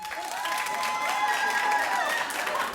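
A studio audience at a daytime talk show claps in answer to a show-of-claps question, a steady, dense patter lasting about three seconds with faint voices and whoops mixed in.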